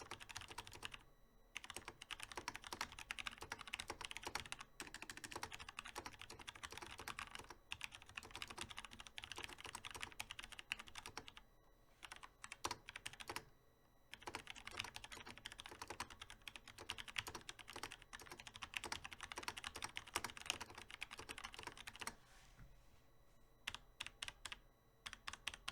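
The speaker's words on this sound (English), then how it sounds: "I just have this SM57 hung about 6 to 8 inches above the keyboard, and I'm just typing normally." Normal typing on a Logitech G613 wireless mechanical keyboard, close-miked from above, gives quick bursts of clacky keystrokes with a slight rattle on the larger keys, separated by brief pauses.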